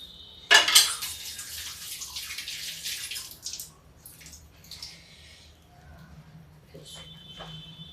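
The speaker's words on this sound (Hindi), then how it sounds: "अब मैं हाथ धो लेती हूँ।" Tap water gushes strongly at first, then runs steadily as hands are washed in a village kitchen, with faint clinks of dishes toward the end.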